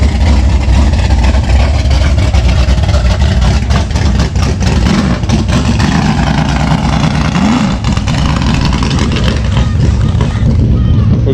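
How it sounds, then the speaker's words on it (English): A dirt track car's engine runs loud and close at an outdoor car show, a heavy rumbling roar with revving surges, and a voice briefly talks over it. "Dirt track car."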